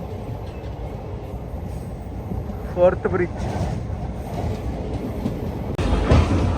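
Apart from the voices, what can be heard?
Chennai–Visakhapatnam superfast express train running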